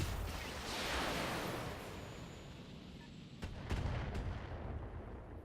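A mech in the BattleTech video game fires its AC-5 autocannon and LRM-5 missiles, giving a faint rumbling barrage of booms and whooshes with a few sharper bursts near the end.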